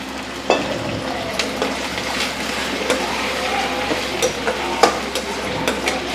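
Chopped brinjal sizzles and fries steadily in a hot oiled pan while it is prepared for biryani, and scattered stirring clinks and scrapes cut in now and then over the continuous crackle.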